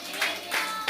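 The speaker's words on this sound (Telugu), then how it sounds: "గట్టిగా చప్పట్లు కొట్టండి." A church congregation claps hands during a sermon, with a few quick, roomy bursts of applause landing in a steady rhythm across a brief moment.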